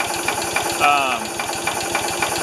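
A Ford 2600 tractor engine, after a fuel system overhaul, idles low and steady with a regular chugging pulse, close by; a voice speaks briefly over it.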